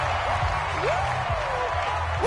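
Crowd noise from a stadium in a football video game, a steady broad wash of cheering and applause that stays level throughout, with a few faint tonal swoops over it.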